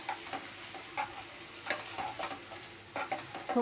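Malvani masala stirs and sizzles in hot oil in a pan, a steady frying hiss broken by the scrape and clink of a spoon every second or so, close and moderately quiet with no speech.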